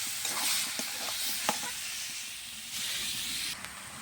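Mutton curry fries in a pan while being stirred, giving a steady close hiss and sizzle with a few light scrapes and taps of the spoon. No one speaks.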